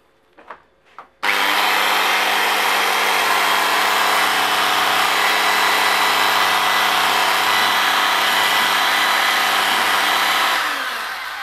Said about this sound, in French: Ensuite, je passe à mon outil de perceuse que je vais brancher.